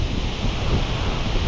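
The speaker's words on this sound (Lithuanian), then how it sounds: "Slepiuosi nuo vėjo. Vėjas toksai žiaurokas" Strong wind buffeting a microphone outdoors in a field: a loud, continuous rumbling roar with gusty low thumps, alone throughout.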